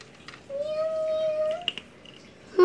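A single drawn-out meow, clear and fairly close, followed by a few faint chirps and the start of another cry at the end.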